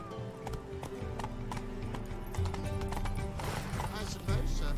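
Roach, Geralt's horse in The Witcher 3, galloping with rapid, loud hoofbeats that grow heavier toward the end, and a brief neigh among them.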